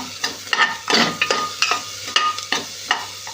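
Cauliflower florets are sautéed in a pan, with repeated rhythmic scraping strokes of a spatula over a light sizzle, close and fairly loud, roughly every half second.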